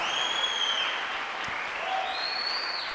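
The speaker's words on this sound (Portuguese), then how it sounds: "Aplauda Jesus, aplauda o Espírito Santo." A church congregation applauds steadily for several seconds, a dense, even patter of many hands clapping in an indoor worship service.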